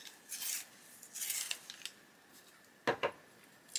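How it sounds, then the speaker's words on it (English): A colored pencil scraped in a sharpener, soft intermittent rasping twists in short bursts, quiet and close, with a few sharper scrapes near the end. "I'm doing the sharpen."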